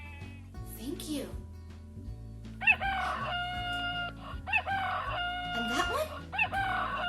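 A farm rooster crows twice in loud, strident cock-a-doodle-doo calls, with a brief spoken question before and light background music underneath.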